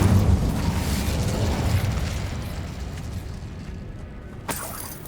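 An Incendio fire spell in Hogwarts Legacy lands as a roaring, explosive burst that rumbles and slowly dies down, with a sharp crackling pop near the end.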